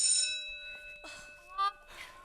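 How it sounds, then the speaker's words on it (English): A school bell rings during a staged performance of The Children's Hour, a steady bright tone sounding at first, then fading under soft voices and stage noise. "There's the bell."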